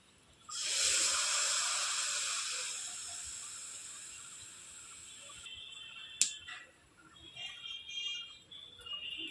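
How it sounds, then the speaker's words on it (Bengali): Jaggery dropped into a hot kadai (wok) for chutney hisses loudly and suddenly, then the sizzle slowly fades, followed by a single sharp click and softer scraping sounds. "তো আমি এখন কড়াইতে দিয়ে দিচ্ছি গুড়।"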